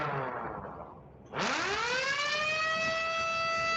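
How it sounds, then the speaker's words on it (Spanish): An alarm in an industrial SCADA tank-level monitoring setup, signalling the maximum bottle count, sounds after a brief lull: a loud, steady siren tone that sweeps rapidly upward and then holds a sustained harmonic wail to the end. "ya aquí ya vemos que la alarma está sonando"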